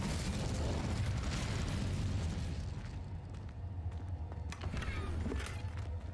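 A fiery blast from the Incendio spell in Hogwarts Legacy, a loud, dense roaring burst of flame that fills the space and settles into a rumbling crackle.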